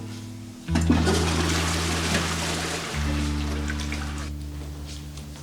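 A toilet flushes with a sudden rushing whoosh of water that swirls steadily, layered over a low steady hum, then tapers off near the end.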